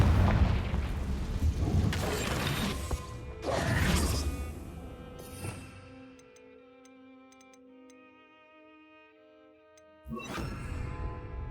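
A Confringo blasting spell is cast in Hogwarts Legacy during a Merlin trial, loud bursts and crackling blasts early on, followed by a quiet stretch of ticking, ringing mechanism sounds and then another sudden blast.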